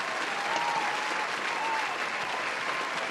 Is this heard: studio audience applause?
yes